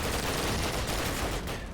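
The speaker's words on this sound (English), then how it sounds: "Great shot from Spirit on Hemi" Rapid rifle fire in a Call of Duty multiplayer match on the Tigertown map, a dense burst of overlapping shots filling the whole brief moment at a steady level.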